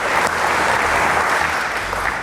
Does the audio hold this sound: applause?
yes